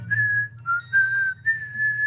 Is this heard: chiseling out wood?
no